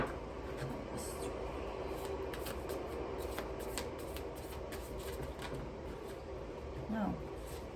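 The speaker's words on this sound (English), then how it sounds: "I'm gonna lay out the cards first" Tarot cards being laid out by hand in a quiet room, with soft papery shuffles and slides running steadily under a faint background hum, and a brief louder flick near the end.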